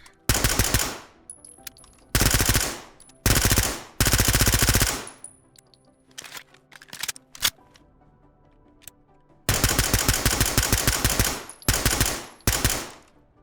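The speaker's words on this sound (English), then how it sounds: "First one I'm going to show off is the MP9" An MP9 submachine gun fires in the video game Ready or Not, loud close bursts of rapid automatic fire lasting about a second each, separated by quiet gaps with faint clicks of handling.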